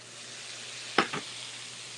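Corn frying in freshly added oil in a dry-bottomed pan, a steady faint sizzle with one sharp brief stir or scrape near the middle and a smaller one just after.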